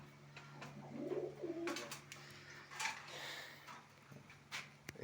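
Indian Lotan pigeons cooing, with soft, low, throaty coos repeated close by in a quiet loft, along with a few faint knocks and rustles.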